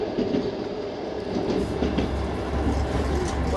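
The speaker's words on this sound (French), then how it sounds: "Nous embarquons à bord du train mythique à Moscou, direction Yekaterinbourg pour 26 heures de trajet." Trans-Siberian train departing Moscow, rolling on rails with a steady low rumble and faint clickety-clack of wagon wheels, continuous and close from inside the carriage.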